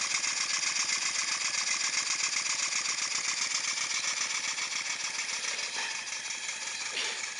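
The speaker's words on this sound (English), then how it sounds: "the Stuart no.1 is running sweetly on the 5-inch fire tube boiler, running on coal at the moment" A Stuart No.1 model steam engine on its first run, fed by a coal-fired 5-inch fire tube boiler, chuffing in a fast, even mechanical rhythm with a steady hiss, close and continuous throughout.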